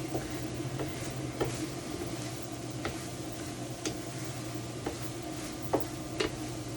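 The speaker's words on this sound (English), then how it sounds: "stir it through, distribute it pretty evenly so that you see some of these little pieces of egg" Bits of egg stirred through Taiwanese picadillo in a hot pan, a constant low sizzle under scattered light scrapes and ticks from the utensil, close and without talk.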